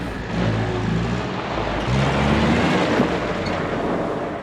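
Vehicle fitted with cheap swapped gears pulling in third gear in low range, its engine a steady rumbling drone that swells slightly as it pulls, alone with no talk.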